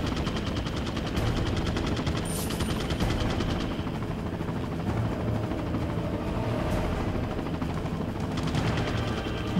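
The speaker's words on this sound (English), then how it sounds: "Fucking attack helicopter like that." Attack helicopter rotor roar mixed with bursts of automatic gunfire in the video game Resident Evil 4 Classic, loud and continuous throughout with rapid rhythmic firing layered over a steady mechanical drone.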